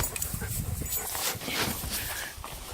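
A dog pants rapidly and whimpers nearby inside a small cabin, steady breathy huffs with occasional soft whines and no talk.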